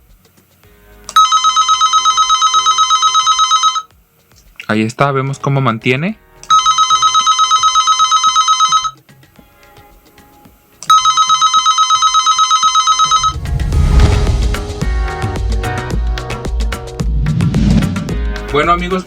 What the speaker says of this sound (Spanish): así podemos hacer sonar cualquier teléfono analógico